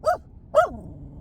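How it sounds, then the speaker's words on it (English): A pet dog barks twice indoors, two short, close, fairly loud barks about half a second apart, followed by quiet. "Oh, this dog barks at her."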